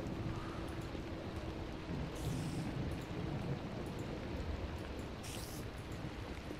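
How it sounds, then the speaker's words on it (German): A Minecraft thunderstorm with steady rain hissing throughout and low rumbles of thunder, with two brief bright crackles, all at a fairly quiet level with no talking. "Oh, und es gewittert draußen."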